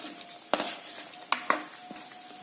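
Dried fish and green banana curry cooks in a pot, with quiet bubbling and a few distinct clinks and scrapes of a utensil against the pot, close and otherwise fairly soft.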